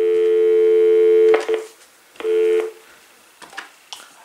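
Loud tones come from an AT&T SynJ SB67118 speakerphone: a long sustained tone, then a shorter burst of the same tone, followed by a few faint clicks and button presses.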